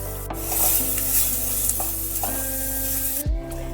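Steady sizzling of eggplant slices frying in hot oil in a kadai, with occasional stirring scrapes and clinks of a utensil against the pan.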